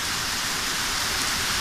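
Heavy rain pouring steadily during a thunderstorm over Fürstenwalde, a dense, even hiss close by with no pauses and no talk.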